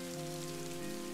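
Steady rainfall in Daggerfall Unity hisses continuously, fairly loud and even, layered over sustained tonal music with no voices.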